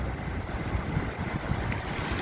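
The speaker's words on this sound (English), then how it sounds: "And the sea is very rough." Rough storm sea at the cove in Ogunquit, with heavy swell rolling in and wind buffeting the microphone, a continuous loud roar and rumble of waves with no voices.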